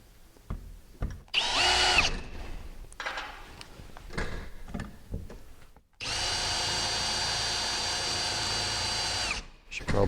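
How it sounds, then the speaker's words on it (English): A power drill bores a pre-drilled hole through a heavier metal plate while a garage door opener is being installed. After some short bursts and handling noise comes a steady, close, sustained whine. "I'm going to pre-drill a hole through this heavier plate."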